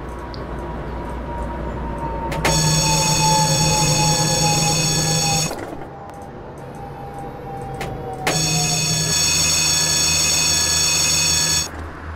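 A tram in OMSI 2 runs along the tracks with a loud, steady rolling hum and a high whining tone. The hum cuts out briefly midway and then returns.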